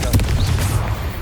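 Short Confringo blasting curse explosion in Hogwarts Legacy, a loud heavy boom with a rumbling low tail, brief and punchy amid busy combat audio.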